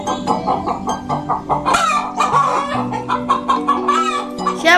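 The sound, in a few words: roosters clucking at a cockfight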